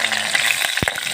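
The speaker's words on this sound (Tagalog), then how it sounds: "Ayan guys, gisa na natin una." Garlic sautés in hot oil in a pan for a banana mushroom dish, a brief steady sizzle close by with a sharp stirring scrape partway through.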